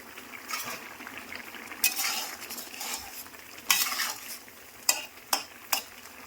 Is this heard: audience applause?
no